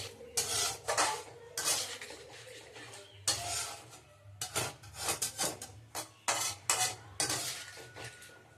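Spice masala being stirred in a pan with a little water added, rendered as intermittent metallic scraping and clanking of a spoon against cookware in bursts, with soft sizzling between strokes and no voices.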